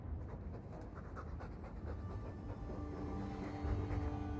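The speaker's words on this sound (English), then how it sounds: "All that noisy dog breath, day in, day out, make him stop." A dog pants steadily and rapidly in a stuffy room in Dragon Age 2, its breathy rhythm soft and continuous throughout with a faint low hum beneath.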